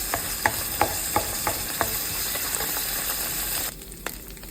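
Grated coconut sautéed in ghee in a pan, a constant loud sizzle punctuated by a regular series of sharp spatula scrapes and taps, easing off near the end.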